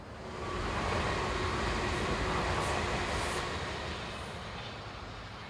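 A brand new 502-402 train passes in the opposite direction, its broad rolling rumble swelling quickly and then fading slowly, heard from aboard another moving train with no talk.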